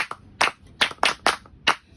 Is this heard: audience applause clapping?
yes